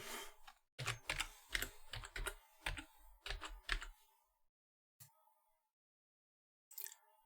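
Computer keyboard typing while renaming a Windows 11 Start menu folder, a close, quick run of crisp key clicks for about three seconds, then a few isolated taps after a pause.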